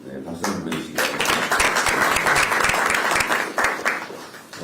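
An audience at a political rally bursts into sustained applause, dense overlapping clapping and crowd noise that stays loud for several seconds while a voice speaks over it.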